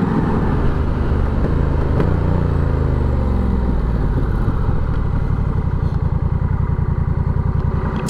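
Road traffic on a Honda CB500X or Rebel 1100 motorcycle commute: a close, steady engine hum with wind rush and passing vehicles, loud and continuous throughout.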